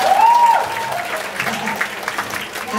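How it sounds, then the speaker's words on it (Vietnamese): Audience clapping at a charity auction during a music night, a scattered but steady patter under a brief tonal sound and background voices. "Mình không mua thì mình vỗ tay dùm cái ha"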